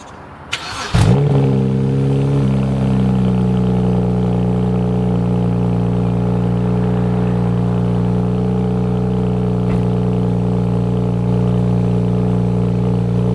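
A BMW 335i with the N54 engine cold starts with a quick crank and catches into a loud, steady elevated idle, the exhaust droning close and continuously with no talking.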